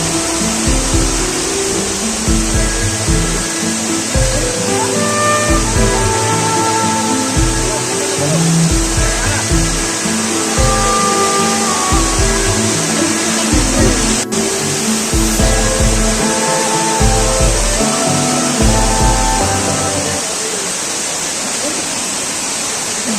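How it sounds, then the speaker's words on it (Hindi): Tirathgarh waterfall pours down stepped rock ledges in a loud, steady roar of rushing water that holds constant for most of the stretch, then eases a little near the end. "यहाँ स्टेप्स में गिरता है पानी और नीचे आकर कई धाराओं में बदल जाती हैं"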